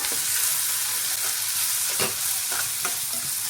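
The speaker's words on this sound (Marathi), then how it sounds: "आपला कांदा परतन झालाय, टाकून घ्यायचा आहे टोमॅटो।" Chopped onion and tomato fry in a pan for a soybean chunk curry, giving a steady close sizzle with a few stirring scrapes throughout, no voices.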